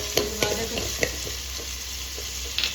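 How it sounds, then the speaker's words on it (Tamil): Chopped tomato sizzles in a pan for egg noodles and is stirred: a steady frying hiss with a few sharp spatula taps and scrapes against the pan, close by and with no talk. "தக்காளி போட்டு சரியா வந்து நல்லா கிண்டி விட்டுக்கலாம்"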